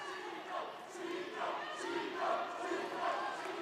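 Arena crowd at a judo match calling out in rhythmic, swelling waves of voices, moderately distant and sustained across the whole moment.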